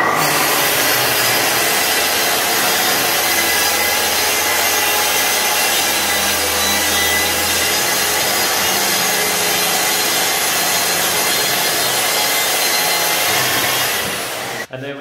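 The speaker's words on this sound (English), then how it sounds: "I'll get my ear defenders on and we'll make the first cut" A power saw cutting through an MDF board for a TV wall, a loud, steady broadband rasp running unbroken for about fourteen seconds before stopping abruptly at the end.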